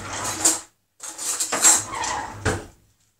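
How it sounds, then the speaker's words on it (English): Jambalaya stirred in a pan, heard as close scraping and clinking of a utensil against the pan in two short bursts separated by a brief pause, with no talking. "I'm just going to give it a stir"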